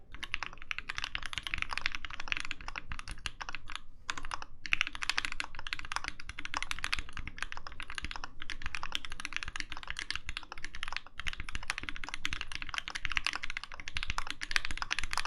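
Continuous typing on a Virgo mechanical keyboard fitted with Mauve switches, a dense steady stream of close, crisp keystrokes with only a few brief pauses and no talk.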